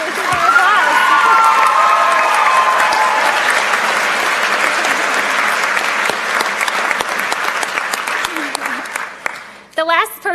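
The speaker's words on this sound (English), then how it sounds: "Please stand and give her applause." Sustained audience applause at a school convocation, dense and steady for most of the span, with scattered voices and a brief speaking voice near the end as the clapping fades.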